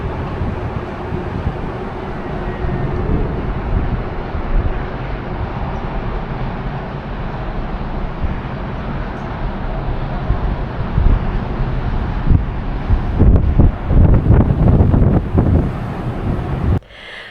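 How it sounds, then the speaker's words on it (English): Ship sailing away from Wellington in strong wind: a steady roar of wind buffeting the microphone mixed with rushing water, growing louder and more turbulent near the end. "We are officially sailing away."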